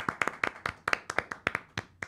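Clapping from a small studio audience greeting a Broadway guest, sparse and distinct claps in an uneven rhythm, fairly quiet and close.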